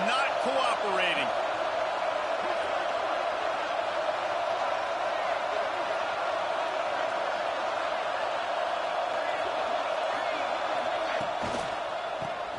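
Steady roar of a stadium crowd in the College Football 26 video game, a Michigan goal-line drive, holding at an even, loud level throughout with a few faint sharp knocks and a brief voice near the start.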